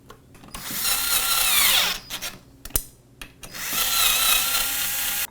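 Screws are driven in with a power drill to fit a bracket on the frame of a DDC Sport M1 folding e-bike: two loud, sustained whirring bursts split by a short pause with a few clicks, close up, with no talking.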